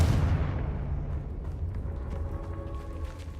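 A Confringo blasting curse detonates in the game Hogwarts Legacy: a single loud boom right at the start, then a deep rumble that fades over the next few seconds.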